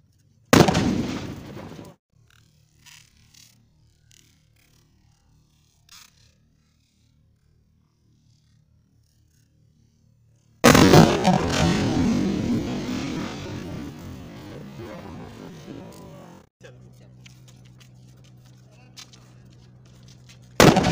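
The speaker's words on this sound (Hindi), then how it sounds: "ये छोटा बम और ये है एल्यूमिनियम बम" A sutli firecracker bomb and an aluminium bomb blast outdoors: two loud, close explosions, each a sharp crack trailing into a long rumbling roar, separated by a quiet stretch with a low hum.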